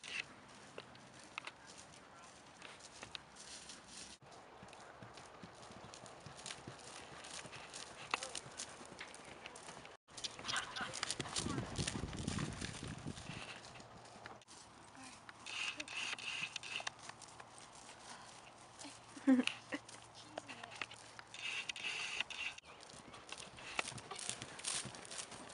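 Horse hooves clip-clop at a steady walking rhythm while riding through a meadow, with a brief louder rustling stretch partway through and occasional faint voices in the background.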